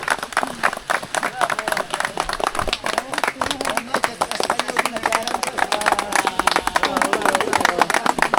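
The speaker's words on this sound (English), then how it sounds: "And the customary round of applause." A small group claps in a loose round of applause, with uneven individual claps and chatter and voices mixed in, the clapping growing a little stronger toward the end.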